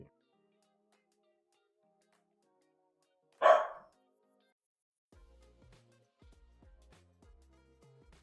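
A dog gives a single short bark from a little way off in a quiet room, and faint clicks and light handling noises follow later.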